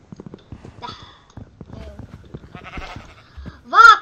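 A single Minecraft sheep bleats once near the end, short and nasal, following a stretch of a person talking and game sounds.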